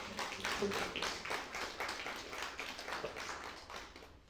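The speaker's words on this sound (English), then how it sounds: "give our public safety officers a round of applause for all of them" A small audience applauds public safety officers at a press conference, a soft, steady patter of hand claps that fades toward the end.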